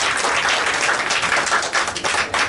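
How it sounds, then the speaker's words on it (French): An audience at a community meeting applauds, dense steady clapping filling the whole moment at a loud, even level with no voices over it. "On applaudit pour la question."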